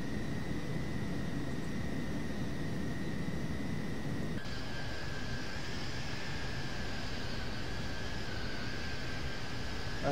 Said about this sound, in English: in a very loud, obnoxious jet.